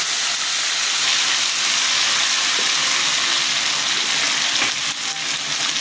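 Onion, cinnamon and white cumin tempering with ginger-chili paste sizzle in hot oil as a dense, steady hiss that runs unbroken from start to finish, close and fairly loud, with no talking.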